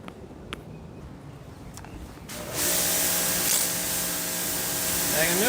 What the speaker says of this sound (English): just hit it with a pressure washer real quick